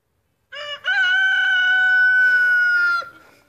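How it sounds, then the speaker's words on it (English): A rooster lets out a loud, close, drawn-out crow with a clear rising-then-sustained pitch lasting a few seconds, with soft chicken sounds around it. "Stupid chickens, I hate them."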